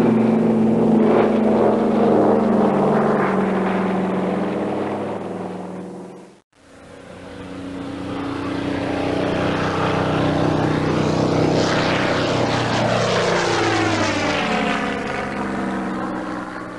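Douglas DC-3 propeller airliner engines droning loud and steady, a brief cut midway, then the throbbing roar returning with a rising and falling pitch as if passing close by.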